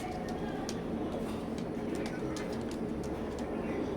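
A pair of Oman-bloodline running pigeons, a male and a female, coo softly against a steady hiss of background noise with faint distant murmur.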